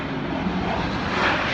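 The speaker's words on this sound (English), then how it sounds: "airplane going by" A propeller airplane drones overhead above an exercise class, a steady broad engine roar that stays even and fairly loud throughout with no talking.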